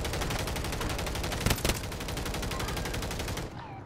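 Rapid automatic gunfire in a multiplayer shooter, a continuous loud stream of rhythmic shots with a couple of sharper bursts midway, cutting off abruptly near the end.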